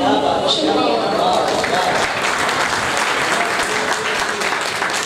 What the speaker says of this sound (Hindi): अभी तालियों में कुछ कमी बाकी है।